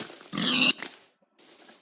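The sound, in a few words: pig grunting in a video game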